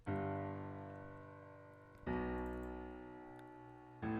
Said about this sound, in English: The reverse piano.